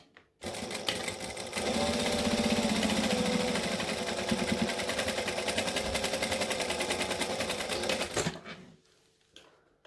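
A sewing machine stitches and backstitches through a fabric book project, a fast even mechanical rattle that starts abruptly, speeds to a steady drive for several seconds, then stops, followed by a faint clack.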